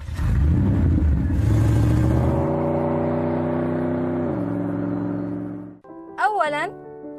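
Neymar's white Audi R8 Spyder with its 5.2-litre V10 roars loudly up close, the revs climbing then easing into a steady drone before cutting off, followed by a short high electronic chirp.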